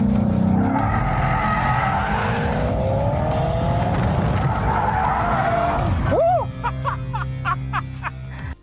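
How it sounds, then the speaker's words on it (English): A Maserati drifts around a corner, its engine roaring steadily under a broad wash of noise before the tires give a sharp, rising squeal of skidding near the end, followed by a few short engine bursts. "Them trying to do drifts going around the corner"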